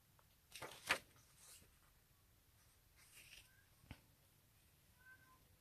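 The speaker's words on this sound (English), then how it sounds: "My cat's going mad downstairs." A cat meows downstairs, faint and distant, giving a few short cries with a louder one near the start against a quiet room.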